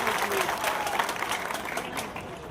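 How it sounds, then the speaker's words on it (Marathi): Audience at a political rally in Pune applauding, a dense, steady wash of clapping from many hands that continues without a break, moderately loud and unaccompanied by speech. "त्यांच्यासाठी आपण जोरदार टाळ्या वाजवाव्या."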